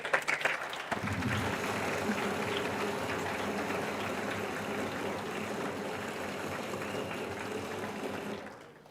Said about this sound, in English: let's give a round of applause for all these volunteers